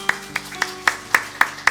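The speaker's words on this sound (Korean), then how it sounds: "하나님께만 감사와 찬양의 박수 드리기 원합니다" Congregation clapping in unison during a Korean church morning worship service, seven sharp, evenly spaced claps in a steady rhythm, close and fairly loud, with no talking.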